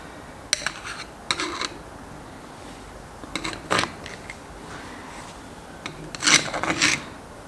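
Old, waxy grease is scraped out of a boat's anchor windlass with stripped teeth, in short rasping scrapes of metal on metal that come in separate bursts, close by and fairly loud.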